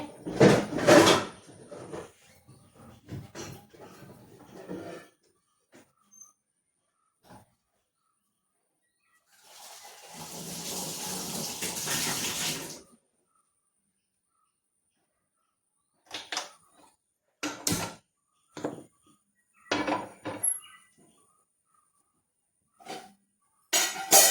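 In a home kitchen, a pan is pulled out with rattling, knocking clatters and set down with sharp bangs, the bursts separated by quiet gaps, along with a stretch of steady hiss.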